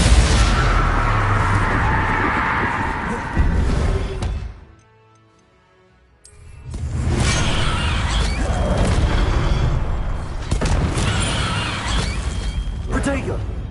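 Spell blasts and explosions crash out in the Hogwarts Legacy video game, loud and dense, with a brief quiet gap midway before the barrage resumes.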